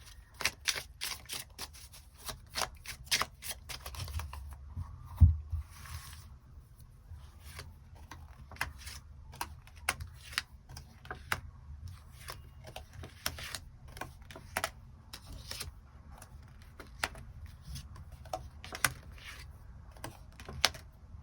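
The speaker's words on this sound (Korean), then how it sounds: "또 앞으로의 흐름들 추가 카드 뽑아보도록 하겠습니다" Tarot cards are shuffled and drawn close by, making a long run of crisp flicks, taps and slides at an uneven rhythm on a quiet background, with no one speaking.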